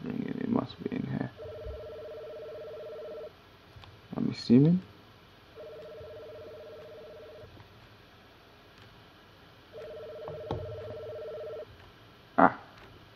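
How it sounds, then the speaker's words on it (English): A telephone ringing in a house's spare bedroom in the video game Before I Forget, three long electronic rings spaced apart with short clicks between, under a brief spoken voice. "Let's find this spare bedroom where this phone is ringing"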